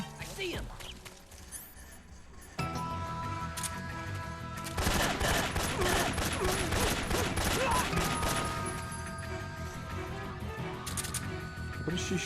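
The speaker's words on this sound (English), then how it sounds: "What is she shooting at?" Rapid bursts of gunfire ring out during a firefight in the stealth video game Metal Gear Solid 3, dense and continuous over a loud game soundtrack.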